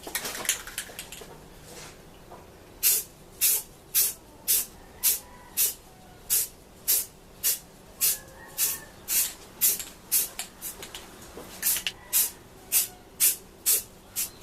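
An aerosol can sprays paint onto an airsoft helmet in a long run of short, crisp hissing bursts with a steady rhythm, close and clear with no talk.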